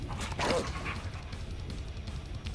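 Feral dog in a video game, a few short barks and yips close by over a steady low rumble of game ambience.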